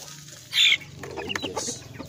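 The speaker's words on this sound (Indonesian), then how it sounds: "Lah yang di dalam itu ayam jobber keturunan ayam Joper sama ayam kampung ini" A Joper chicken gives a short, sharp cluck, followed by softer low clucking and rustling nearby.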